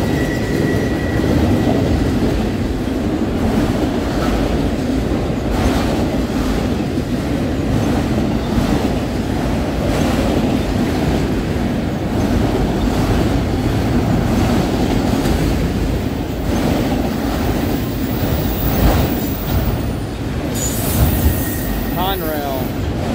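CSX freight train Q217 rolls past heading west, a steady loud rumble of rail cars and wheels with occasional squeal, continuous throughout.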